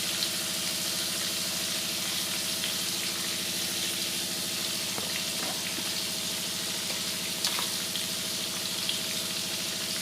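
Long-cut potato sticks in hot oil give a steady, moderately quiet frying sizzle with a constant hiss and light crackle. No one speaks.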